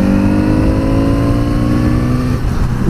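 Kawasaki Z900 RS retro motorcycle at a show stand in Birmingham, its engine revving loudly and close up with a rising, sustained roar that drops off near the end.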